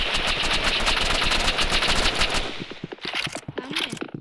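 Rapid automatic gunfire from the Roblox game Rivals rattles loudly in a dense, continuous burst, then breaks into scattered sharper single shots and clicks toward the end, with no talking.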